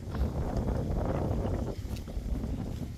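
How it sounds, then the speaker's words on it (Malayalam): Gusty wind buffets the microphone in a continuous low rumble, with faint rustling throughout, outdoors where sweet flag roots are laid out to dry. "നല്ല കാറ്റുണ്ട്, പറന്നു"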